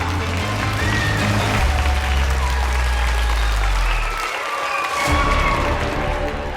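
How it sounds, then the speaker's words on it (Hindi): An audience at a magic show gives loud, sustained applause to welcome a magician on stage, many hands clapping continuously over a low droning musical backing that briefly drops out. "तालियों के साथ स्वागत करते हैं"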